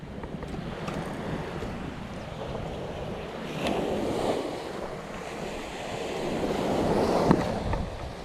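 Strong ocean waves roll and crash with a constant rushing roar, swelling louder in surges, and wind buffets the microphone.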